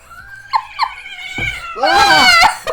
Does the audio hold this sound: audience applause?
no